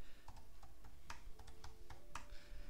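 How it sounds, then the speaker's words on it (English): Rapid, uneven keystrokes on a computer keyboard as team names and betting odds are entered, close and fairly quiet, with scattered sharper clicks over steady room hum. "So I simply type the teams, Brentford, and then I need to type the odds."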